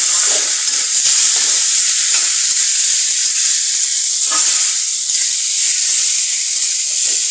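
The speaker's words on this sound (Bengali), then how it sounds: "সিদ্ধ করা নুডলসটি ঢেলে দেব। ভালোভাবে" Boiled noodles stir-fried in a pan give off a steady, loud sizzle and hiss, with a few soft scraping stirs and no talking.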